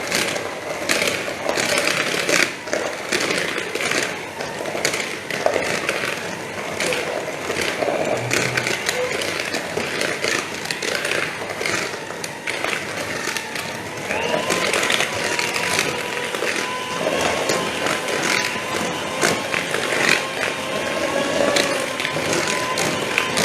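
An electric mixer beating banana, sugar and margarine for a sticky banana cake at a live baking demo, a continuous loud whirring drone throughout with a person talking over it.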